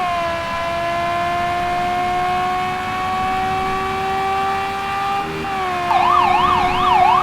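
Police car sirens wail steadily during a chase, a long sustained tone that shifts into a rapid yelping pattern near the end, loud and close alongside a revving car engine.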